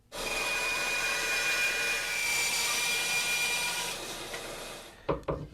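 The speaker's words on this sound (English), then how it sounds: "Now this I am going to take to the bandsaw to get fairly close to this 11 millimeter mark." A bandsaw cuts through guitar neck wood in a steady, loud whining buzz that holds for about four seconds, then winds down, followed by a few brief knocks as the piece is handled.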